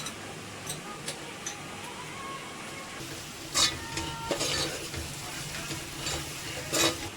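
Spices, mint, coriander and garlic paste fry in a pan with a continuous sizzle, broken by several sharp scraping stirs and utensil clatters against the pan.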